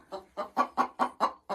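A hen that has just laid an egg gives loud, steady, rhythmic clucks, about seven in quick succession, close by and with no talking.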